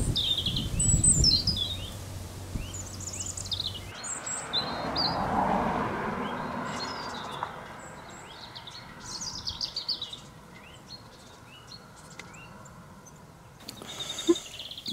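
Native songbirds sing outdoors, with several overlapping chirps and short trilled phrases that repeat through the whole stretch over a soft, steady rustling background. One brief louder burst comes near the end.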